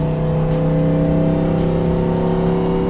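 A 1955 race car engine revs loud and close, its steady throbbing drone holding strong harmonic tones throughout with no talk over it.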